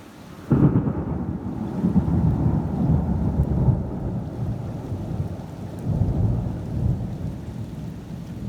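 Severe thunderstorm with a sudden loud crack of thunder that rolls into a long rumbling roar, steady rain hissing on surfaces throughout.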